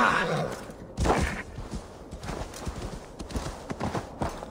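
A horse gallops in Assassin's Creed Valhalla, its hooves drumming in a quick steady rhythm over wind and ambient noise, with no speech.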